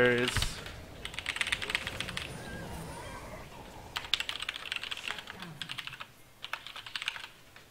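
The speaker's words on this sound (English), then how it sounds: "I'm literally mid typing" Computer keyboard typing runs through a League of Legends match, with bursts of rapid clicking keys, short pauses and scattered game sound effects in between.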